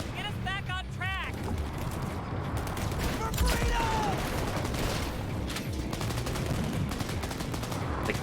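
Gunfire in Cyberpunk 2077 comes as scattered sharp shots and a few quick bursts over a busy, rumbling game soundscape, with some brief vocal sounds early on.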